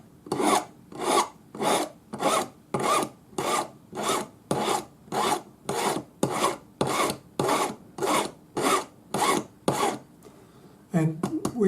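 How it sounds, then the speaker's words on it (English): Steady, rhythmic rasping of a Swiss No. 2 cut flat hand file smoothing a metal taper, about twenty even strokes close up, then a brief pause and a few quicker strokes. "Swiss No. 2 cut flat hand file and smooth my taper"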